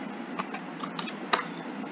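The word Spain typed on a computer keyboard, a short run of a few crisp, close keystrokes over a steady background hiss, with one sharper tap near the end.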